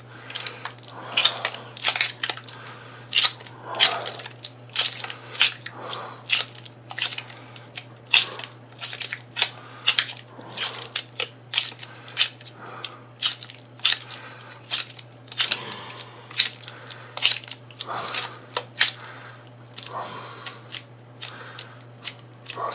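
Milliput two-part putty is squeezed and kneaded by hand on a plastic cutting board, giving close, irregular crackling and crunchy snaps in quick bursts with a steady low hum underneath.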